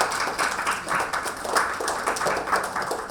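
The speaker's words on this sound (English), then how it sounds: "So give yourself a round of applause," Audience at a wellness programme giving themselves a round of applause, a loud, close burst of uneven clapping with pulsing surges that runs throughout the short stretch.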